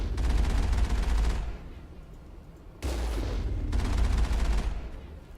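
Heavy vehicle-mounted cannon firing in the Mass Effect video game: two long sustained bursts of loud, rapid booming fire, with a short lull between them where only a rumbling low hum remains.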